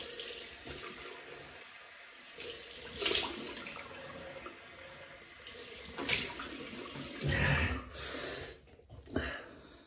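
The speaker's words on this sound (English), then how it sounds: "Cold water rinse." Tap water runs into a sink for a cold rinse after a shave with Faberge Brut, a hissing flow that swells and fades in several bursts, close to the microphone.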